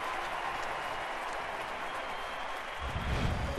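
A playoff baseball crowd roars as Pavano strikes out A-Rod in an ALDS game, a broad, steady wash of cheering that hangs at a distance and lifts slightly in the last second.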